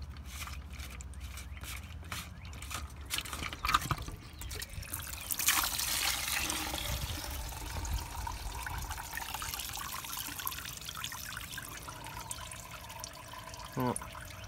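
Diesel fuel drains from the fuel filter of a 6.7 Powerstroke truck, first as a few faint drips and then as a steady, close trickling and splashing that goes on for about ten seconds.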